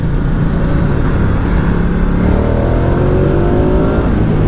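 A 2019 Ducati Diavel 1260S motorcycle accelerates hard, its engine roar rising steadily in pitch, loud and close under constant rushing wind.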